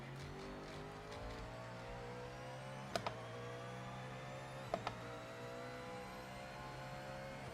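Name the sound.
race car driving in the video game Project Motor Racing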